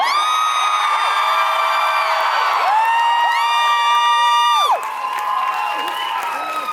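Fans at a Supernatural convention panel in Denver scream and cheer in a packed hall, with long high-pitched shrieks and whoops that are loud and close, dropping slightly toward the end.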